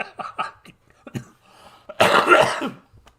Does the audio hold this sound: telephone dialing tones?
no